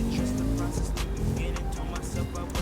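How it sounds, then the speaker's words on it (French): Car engine in The Crew racing game revving loudly through a gear shift, with a falling tone and tire noise. Someone talks over it. "Passage de la vitesse qui me remet en arrière."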